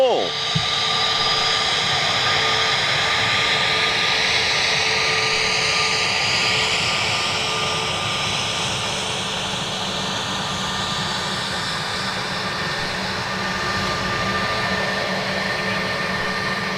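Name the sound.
Ilyushin aircraft engines taxiing at Manchester Airport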